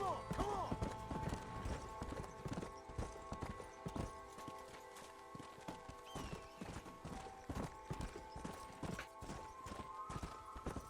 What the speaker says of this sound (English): Caballo de guerra, ¿qué es esto?